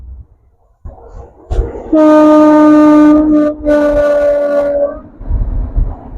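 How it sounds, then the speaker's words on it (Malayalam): A train passes close by with a loud, sustained horn blast over a deep rumbling roar that swells and fades. "ട്രെയിൻ പോകണം, നോക്കിക്കോളൂ."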